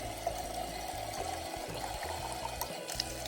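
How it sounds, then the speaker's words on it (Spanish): Untreated spring water pouring out of a mountain source in La Campana National Park, a close, steady splashing gush that runs without a break and carries no voices. "Es agua no potable, ojo, pero nosotros igual la tomamos. Es agua de vertiente."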